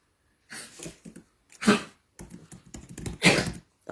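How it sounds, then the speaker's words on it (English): A dog snorts and sniffs in short bursts close by, with breathy snuffling sounds and brief pauses between them. "That's my dog."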